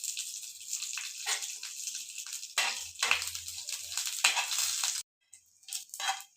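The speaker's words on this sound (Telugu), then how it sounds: "ఆవాలు, ఉద్దిబ్యాళ్ళు, శనగబ్యాళ్ళు, కరివేపాకు, పొట్టిమిరపకాయలు వీటితో పోపు పెట్టేసుకుందాం." Mustard seeds, urad dal, chana dal, curry leaves and small chilies sizzle in hot oil for a tempering, a bright crackling hiss with bursts and a brief gap near the end, heard up close.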